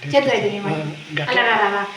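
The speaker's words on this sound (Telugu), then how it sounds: "ముక్కలు అయితే బాగా ఇలా వేయించేసుకోవాలి ఆయిల్ ఇట్లా వాటర్ వస్తుంది కదా" Chicken pieces fry in oil while their water cooks off, a steady, close sizzle with stirring, heard under someone talking.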